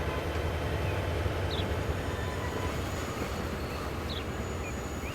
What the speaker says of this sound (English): that sounds like a steel train coming on our left